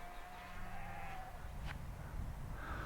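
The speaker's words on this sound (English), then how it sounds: "I've just stepped out to have a look at these funny looking sheep that we've got over here." Sheep outdoors at sunset give a faint, distant bleat or two over steady wind and ambient rumble.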